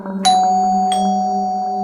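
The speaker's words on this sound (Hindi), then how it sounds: "तभी डोरबेल बजी।" A doorbell rings indoors in the early morning in a Hindi horror story, two clear ding-dong chimes whose tones ring on and fade slowly, with no talking.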